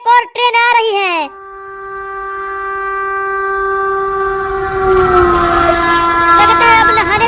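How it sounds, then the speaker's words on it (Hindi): A cartoon train approaches with a long, sustained horn blast that swells louder while a rumbling rush builds beneath it, following a brief burst of animated speech at the start. "वो देखो, एक और ट्रेन आ रही है।"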